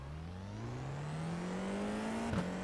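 A Formula 4 car in the iRacing sim launches from a standstill, its engine note climbing steadily in a continuous rising whine, then dipping sharply with a quick gear change near the end.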